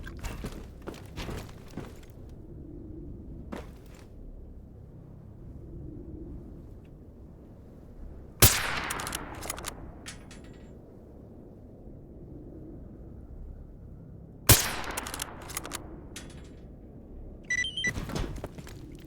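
Gunfire in the shooter game STALKER Gamma, two loud sharp shots with echoing tails separated by several seconds, set among scattered clicks, rattles and quieter ambient rumble.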